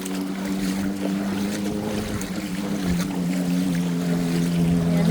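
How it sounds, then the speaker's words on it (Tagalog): A motorcycle engine runs steadily while riding through flood water in Oriental Mindoro, Philippines, with a constant low hum, water and wind noise blending over the whole stretch. "tinan mo ang tunog ng motor"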